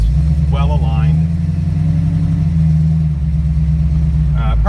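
A 1974 AMC AMX Javelin drives along with a steady, loud low engine hum and road rumble from inside the cabin, while a voice talks briefly over it.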